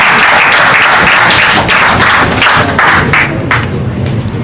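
Loud, dense applause from an audience at a court stakeholder forum, many hands clapping close by with scattered sharper claps and thumps, continuing steadily without speech.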